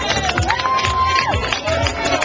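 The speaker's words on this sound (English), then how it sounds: "Big applause for the gorillas." A crowd at a race finish cheers and shouts as a team comes through, a brief burst of lively, busy voices and noise with no clear pauses.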